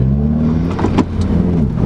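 A 2015 Subaru WRX Stage 2 with the FA engine and stage 3 clutch runs close and loud, a steady low engine drone with a brief rev swell near the middle.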